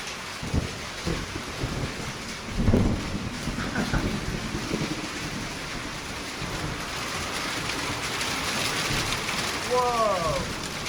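Heavy rain pounds down in a thunderstorm at a guest house, a steady loud roar with thunder rumbling through it and people exclaiming over the storm.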